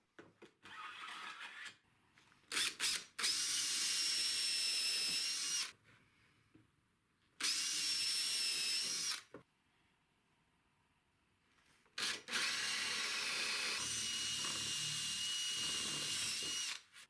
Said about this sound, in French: je vais leur donner un petit coup de rabot pour adoucir les arêtes